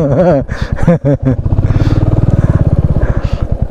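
A motorcycle engine idles steadily while being parked during a ride from Mumbai to Prabalgad Fort, a close, even thrumming pulse that follows a few seconds of voices talking at the start.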